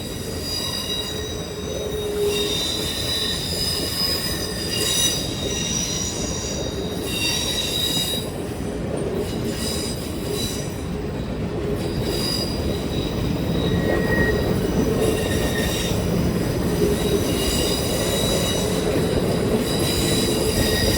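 A freight train passes close by at a road crossing with a loud, sustained rumble of railcars and persistent high metallic wheel squeal throughout, with no talking.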